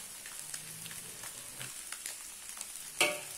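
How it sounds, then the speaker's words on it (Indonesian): Finely pounded chili paste fries in a pan for bihun goreng, a close, lively crackle and sizzle with scattered pops and a sharper burst near the end, no voices. "Kemudian kita masukkan cabai yang sudah kita tumbuk halus sebanyak 10 buah"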